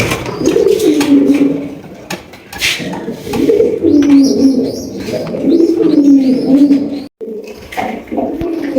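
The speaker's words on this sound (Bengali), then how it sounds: "মাশাল্লাহ অনেক সুন্দর একটা লাহরি কবুতর সিলভার লাহরি কবুতর" Silver Lahori pigeons cooing loudly and close by in repeated throaty rolling phrases, with a few sharp clicks and bumps among them; no talking.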